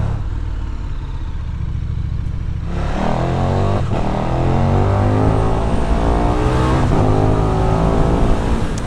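A 2020 KTM 1290 Super Duke R engine pulls hard during an overtake, its note rising and swelling after a quieter start, loud and close from the rider's position, with wind rushing past.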